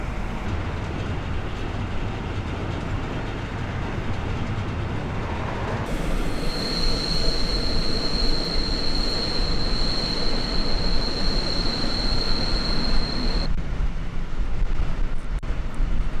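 Historic Kuckucksbähnel steam train rolling along the main line toward Neustadt, steady wheel rumble and clatter, joined midway by a long high-pitched wheel squeal that holds for several seconds before cutting out, close and loud.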